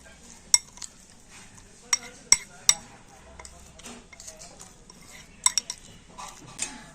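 A utensil stirs semolina with hot water in a bowl, making scattered clinks and taps against the bowl among soft scraping, with quiet pauses between the sharp knocks.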